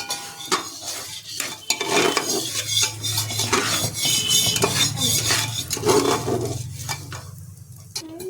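Lentils frying in a pan while a utensil stirs them, a steady close sizzle under scraping and clinking of metal against the pan, with no voices.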